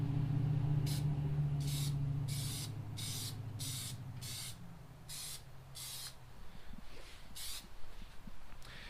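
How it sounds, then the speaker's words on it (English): An aerosol can of Plasti Dip sprays onto a car interior in about a dozen short, evenly spaced hissing bursts, close and fairly loud over a low background rumble. "you just spray it on"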